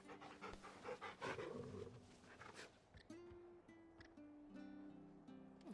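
A dog panting in Final Fantasy 16, quick soft breaths up close over low game music and ambience.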